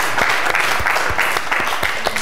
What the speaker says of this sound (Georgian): გავამხდევთ აპლოდისმენტებით.